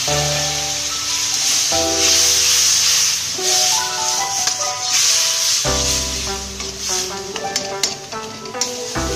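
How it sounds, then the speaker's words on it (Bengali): Spice paste with turmeric and salt frying for a prawn malai curry, with a splash of water added so it sizzles and steams loudly and continuously near the pan, along with scraping and stirring. "এটাকে ভালোভাবে ভাজা হওয়ার জন্য অল্প একটু জল দিয়ে দেবো।"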